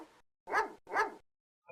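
A Doberman in the video game Phantasmagoria gives two loud, close barks in quick succession, each about a third of a second, with silence before and after.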